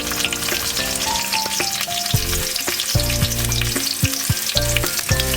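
Onion and garlic fry loudly in a pan, a dense continuous sizzle up close, with a melodic tune playing along underneath and occasional scrapes of stirring.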